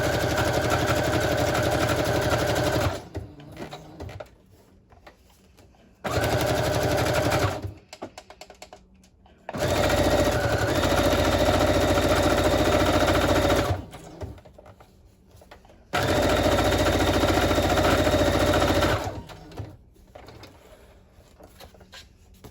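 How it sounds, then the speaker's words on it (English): A sewing machine stitches down a paper journal page in long steady runs of rapid mechanical whirring, four loud bursts separated by quiet pauses with faint handling. "So I'm gonna take this to the sewing machine"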